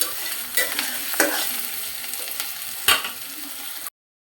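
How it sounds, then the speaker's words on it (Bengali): Dried chepa shutki fish bhuna fries in a wok with a loud, steady close sizzle, broken by several sharp scrapes and clanks as a spatula stirs it every second or so, ending abruptly. "এই চাপা ভুনা রান্না একটু পরপরই নেড়ে দিতে হবে, তা না হলে কড়াইয়ের নিচে লেগে যাবে।"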